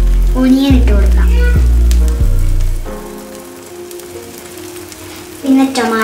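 Onion being fried for a masala omelette, a steady broadband sizzle in the pan running under a voice that talks at intervals throughout.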